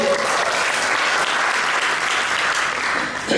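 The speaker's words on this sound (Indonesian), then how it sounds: "berikan sekali lagi tepuk tangan buat Tuhan." Church congregation applauding together, a steady dense wash of many hands clapping at full strength throughout, close and loud, with no speech breaking through.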